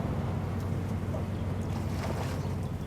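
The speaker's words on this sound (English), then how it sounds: "The vessel is aground, but the engine continues slowly ahead to help maintain position" A steady, constant drone fills the whole clip. It fits the engine of a vessel running slowly ahead while aground in mangroves during severe weather, with wind noise over it.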